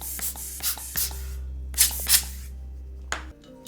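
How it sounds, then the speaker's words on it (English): A small air compressor blows out the parts of a split ergonomic keyboard in short, close bursts of hissing air, several blasts in a row over a steady low hum that cuts off near the end. "I kind of want to get my little air compressor and blow out some of this"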